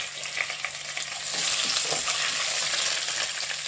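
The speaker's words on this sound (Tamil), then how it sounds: "இப்போ இதில் கருவேப்பிலை சேர்த்திக்கலாம்." Curry leaves hit hot oil already tempering chana dal and urad dal for vangi bath, a close, crackling sizzle that grows louder and steadier partway through.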